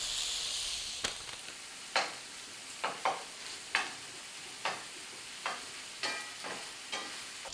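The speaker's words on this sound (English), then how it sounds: "then I'll start to mix everything together and brown that meat" Ground beef browns with onion in a skillet for a Texas taco dish, a soft frying sizzle broken by a steady series of spatula scrapes and stirring strokes, close and alone.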